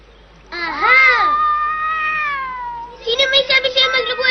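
Meowing in a Tagalog-dubbed cartoon episode: one long, drawn-out wavering meow, followed by a second, more choppy cry.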